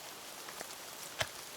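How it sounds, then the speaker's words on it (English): Light rain patters on a makeshift roof, with faint scattered drops and one sharper tap standing out against a soft, steady hiss. "The rain isn't letting up"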